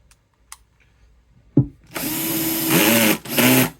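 A Bosch power drill bores out a lump of epoxy on a Martin guitar bridge, starting after a brief tap and a short thump, then whining steadily and close for about two seconds, briefly cutting out, and revving again.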